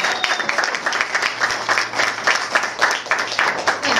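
A crowd claps steadily and continuously at a St. Patrick's Day parade gathering on Main Street in Clifton Forge, Virginia, the applause dense and sustained with a faint low hum beneath.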